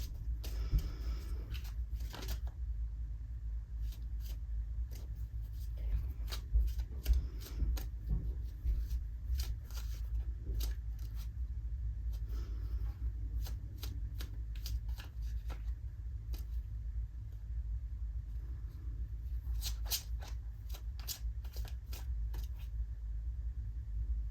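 Cards riffle and snap in repeated bursts against a constant low engine-like rumble, with quieter pauses between shuffles.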